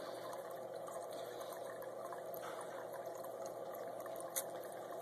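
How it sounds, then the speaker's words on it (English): Water pours steadily into a cooking pot, a continuous faint splashing rush with no voices over it. "filling it up with water"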